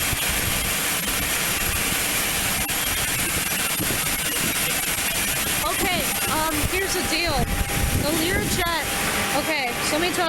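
A Learjet's jet engines run at a municipal airport, a loud, steady roar with rising whining tones, heard outdoors under people talking.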